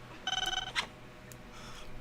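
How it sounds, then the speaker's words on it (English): A telephone rings in a short trilling burst, a rapid electronic warble lasting under half a second, then a faint click and soft noise. "Pick up the damn phone!"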